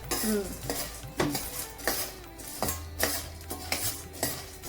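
Roasted gram lightly dry-roasted and stirred in a pan for South Indian chutney powder, heard as close metallic scrapes and clinks of a spoon against the pan in an uneven rhythm, with faint sizzle and no talk.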